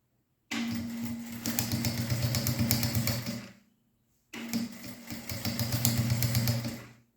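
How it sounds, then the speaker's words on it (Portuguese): A sewing machine runs a seam right along the edge of fabric while a phone wallet is made, in two steady whirring runs of about three seconds each with a short pause between them, heard up close. "nós vamos fazer uma costura bem na borda desse tecido"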